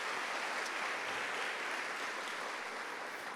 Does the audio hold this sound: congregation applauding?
yes